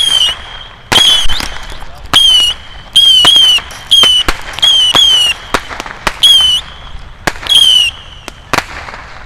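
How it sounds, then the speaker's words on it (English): Fireworks burst repeatedly outdoors in Korea, a rapid series of sharp loud cracks and pops with whistling rising tones between them, near and unbroken across the stretch. "I've never played with fireworks ever in my life."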